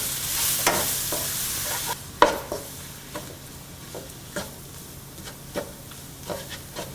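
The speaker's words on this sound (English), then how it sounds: "Add turmeric powder and coriander powder and saute for about 2 to 3 minutes." Turmeric and coriander powder sautéing on low heat for chicken curry: a close, fairly quiet bed of frying with repeated scraping stirs at a loose, irregular pace and a brief bright hiss early on, no speech.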